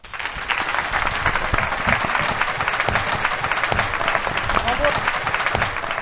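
Loud, enthusiastic applause for a band at the close of a live charity radio show, with clapping, some cheering and voices mixed in, continuous and close throughout.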